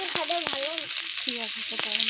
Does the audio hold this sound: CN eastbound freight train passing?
no